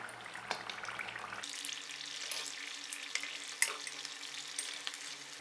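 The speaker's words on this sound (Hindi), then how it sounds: "अब हम उसे पलट लेंगे। और इसे गोल्डन फ्राई करेंगे।" Mutton keema samosas deep-frying in oil after being flipped to turn golden, giving a steady soft bubbling hiss with small crackles that runs through the whole stretch at low, even volume with no talking.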